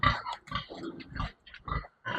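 A sow on a farm grunts repeatedly, close and fairly loud, in a series of short, rough snorting bursts separated by brief pauses.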